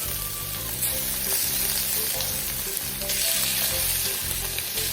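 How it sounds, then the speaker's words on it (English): Seasoned shrimp frying in a pot, a steady close sizzle and crackle with some stirring, over a low hum with tonal rumbles underneath. "next we're gonna go ahead and add our seasoned shrimp"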